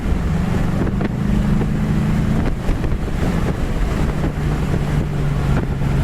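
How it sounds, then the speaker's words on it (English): Heavy wind buffets the microphone, a continuous low roaring rumble with gusty bursts, over the steady engine drone of a 1967 Ford Mustang convertible driving at 60 mph. "We got a really windy day,"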